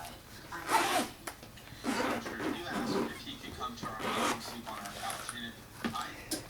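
A zipper on a Beats Executive headphone case pulled open in several short, scratchy bursts, close by, with soft handling noises between pulls.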